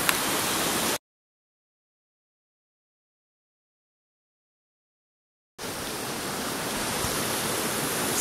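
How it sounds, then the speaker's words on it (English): Waterfall and creek on an off-trail descent of Mt Baldy, a loud steady rush of falling water heard at the start, cutting to silence, then returning full and close. "So we're hiking down a waterfall"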